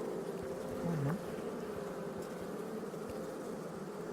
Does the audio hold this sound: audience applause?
no